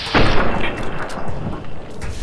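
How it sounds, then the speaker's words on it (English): A varmint rifle fired in Fallout: New Vegas, one sharp loud report near the start followed by a rumbling, echoing tail of game noise. "Time to use my varmint rifle."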